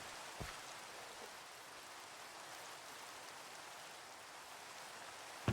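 Steady rain falling in a colony-building video game, a soft continuous hiss of drops spread evenly throughout, faint and unbroken with no voices.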